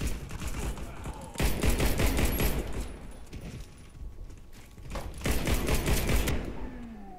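Rapid bursts of gunfire from a gold CZ 75 Czechmate pistol in the Warface video game, dense clattering volleys in two main bursts separated by a quieter gap, with game effects mixed in.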